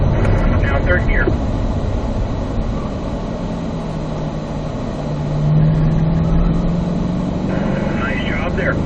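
A Corvette accelerates around a race track with a steady, loud engine roar that builds in pitch partway through, as an instructor talks over it.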